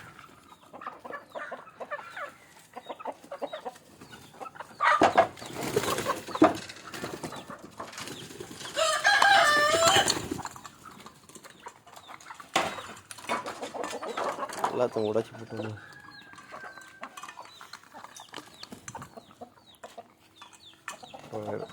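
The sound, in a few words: country chickens waiting to be fed bran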